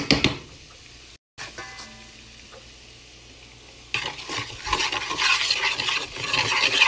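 Flour sizzles in hot oil in a pan for gravy, with a crackling fry, scraping stirs of a utensil against the pan, and a brief pause before the sizzle swells louder and more busy.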